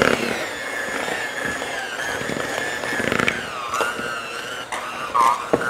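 Egg-free fish taco batter being beaten with an electric mixer, a loud, steady whirring drone that holds for several seconds with slight shifts in pitch as the beaters work through the mixture.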